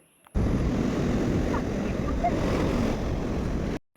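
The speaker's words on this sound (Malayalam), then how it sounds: "ഓരോ തിരയും കരതൊടുമ്പോൾ വളരെ മനോഹരമായിട്ടാണ് നമുക്ക് തോന്നുന്നത്." Continuous rushing roar of sea waves breaking on the shore at Padinjarekkara Beach, Ponnani, India, loud and steady, with wind noise and no voices.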